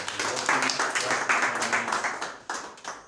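A small group claps at a press briefing for a youth political group, rhythmic uneven claps close by, with a faint voice or two underneath.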